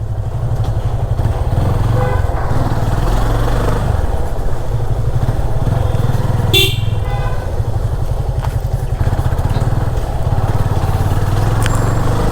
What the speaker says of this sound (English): It's a compact motorcycle